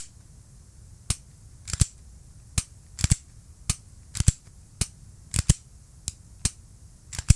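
A pistol is put back together: a string of about fifteen sharp, close metallic clicks and snaps at irregular intervals, with near silence between them and no talking.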